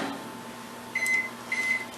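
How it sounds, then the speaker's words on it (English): A microwave oven hums steadily while heating chocolate chips and a teaspoon of shortening. Two quick pairs of high electronic beeps sound over the drone. "my lovely assistant is going to stick my half a cup of chocolate chips and my teaspoon of shortening into the microwave"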